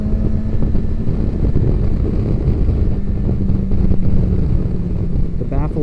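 BMW S1000XR motorcycle running with its stock exhaust pipe removed, a loud, steady, throaty and deep engine drone that holds throughout with wind rumble mixed in.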